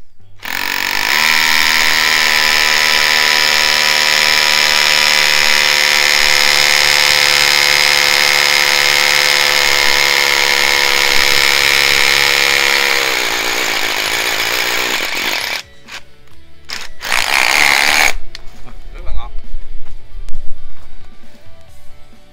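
A DCA ADZC13 cordless drill bores into concrete, a loud steady whining drone for about thirteen seconds that then winds down, followed by a few short bursts and clattering, rumbling noise.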